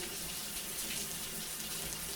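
Steady shower water pours and hisses without pause in Death Stranding, a continuous spray at low level with no talk.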